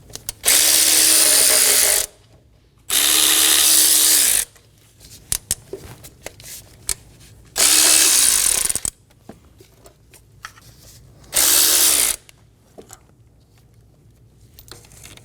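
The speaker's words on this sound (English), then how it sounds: "Using a 12mm socket, we're going to go around and remove the 5 fasteners for the top of the intake manifold." A ratchet with a 12mm socket spins out intake manifold fasteners on a 2008-2015 Scion xB 2.4L four-cylinder, in four loud, close bursts of about two seconds each, separated by quieter gaps with scattered small clicks and handling noises.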